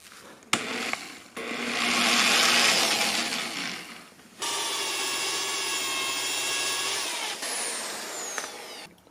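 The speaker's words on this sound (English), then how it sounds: "I can't go back once I drill this hole in the floor." A power drill bores a hole into a floor during a home renovation, whining loudly in a long sustained burst, pausing briefly, then running again at a steady pitch, close and alone.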